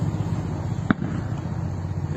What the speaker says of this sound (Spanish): se escuchan tiros.